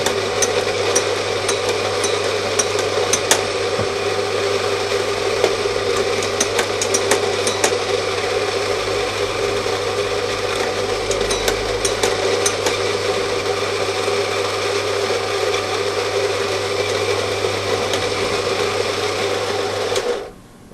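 A coffee grinder set two steps finer grinds beans for an espresso test shot, a loud, continuous motorized whir with rattling, held steadily for about twenty seconds before cutting off abruptly.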